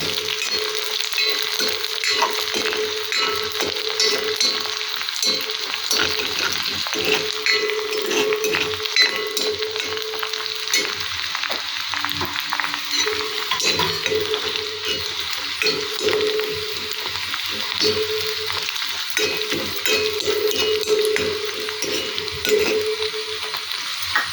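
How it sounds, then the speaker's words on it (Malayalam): Two curry leaves and dried red chillies frying in hot oil for a Kerala papaya stir-fry, a steady close sizzle running throughout with occasional soft clinks of a utensil. "2 കറിവേപ്പിലയും കൊടുത്ത് ഒന്ന് മൂക്കട്ടെ"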